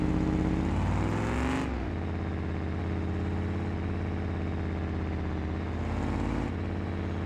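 A car engine in the BeamNG.Drive driving game hums steadily up close, revving at the start and again near the end, holding an even idle-like drone in between.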